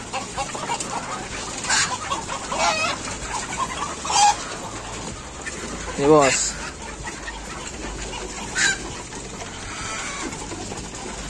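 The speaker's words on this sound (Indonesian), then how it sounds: "Ini ayam kampung unggul Elba" Free-range village chickens cluck and squawk in several bursts close by on a poultry farm, with someone briefly speaking over a busy outdoor background.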